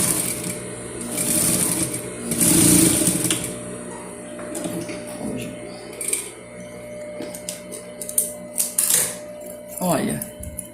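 A sewing machine stitches the lining of a zipper pouch in steady mechanical bursts, pausing and restarting, with someone talking over and between the runs.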